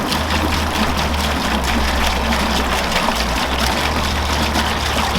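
Water pouring steadily from a gallon jug, a continuous gushing, gurgling flow close by with a low steady hum underneath, no pauses.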